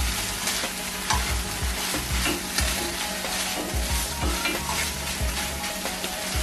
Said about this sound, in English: Mix this up a little bit.